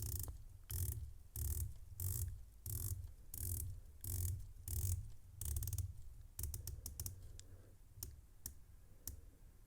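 A silver coin-edged dive watch bezel on a San Martin SN0044-G-B is turned through a series of crisp, evenly spaced clicks, close and distinct, with a faster run of lighter clicks toward the end.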